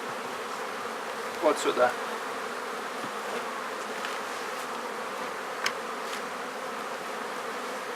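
Honeybees buzz steadily in an opened hive during nest expansion, a continuous droning hum. Someone speaks a few words over the buzzing.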